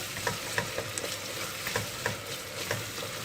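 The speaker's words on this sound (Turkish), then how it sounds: "Birazcık da salçayla yumuşatacağım. Salçamızın çiğ kokusu birazcık gitsin. Birazcık kavurun." Onion sautéed with tomato paste in a pan gives a continuous close sizzle, broken by repeated light scraping and tapping stirs at an uneven pace, with no one talking.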